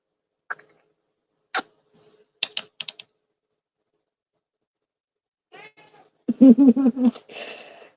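A few soft clicks and taps are followed by a house cat meowing up close in a short run of calls near the end, with no talking.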